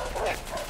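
A dog barks in the forest in the video game A Way Out, one short, close yelp blurred into the game's background sound.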